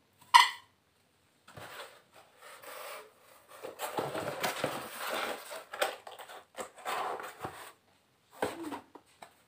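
Ceramic serving bowls from a ten-piece dinner set being handled and set down, with a sharp clink at the start, then soft scraping, rubbing and light knocks in intermittent bursts, close and fairly quiet.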